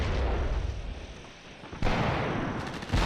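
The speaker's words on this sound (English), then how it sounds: "It's a late mortar." A mortar shell explodes in the tank combat game Graviteam Mius, with a sustained rumbling roar, a lull, then a sharp, loud blast near the end followed by heavy, booming rumble.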